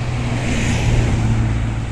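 Car passing by on a rural road, a brief, fairly loud whooshing engine rush with a low steady hum that swells slightly midway and fades, with no voices.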